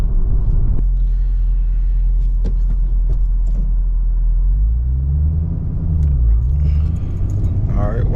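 A car drives on and then slows toward a stop while gear shifts are tested, with a low steady rumble and engine drone, some pitch sweeps near the end, and occasional light clicks and rattles inside the cabin.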